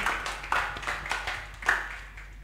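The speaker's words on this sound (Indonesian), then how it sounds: "Halo, tepuk tangan buat kita semua." A small group at a regional press event claps in a few loose, scattered bursts, with light uneven patter fading in and out over a low background hum.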